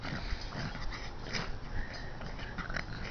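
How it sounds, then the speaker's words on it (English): Dogs snuffling and whining softly on grass outdoors, a low steady run of sniffs and faint whimpers close by, with quiet rustling and no talk. "You silly dog."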